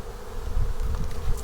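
Honey bees buzz at an open hive, a steady, dense droning hum that stays loud and close throughout with slight swells, and no voices.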